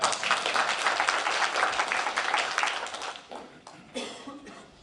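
Applause from a committee meeting audience for a judge, a dense patter of many hands for about three seconds that thins out into scattered claps, with a few final claps near the end.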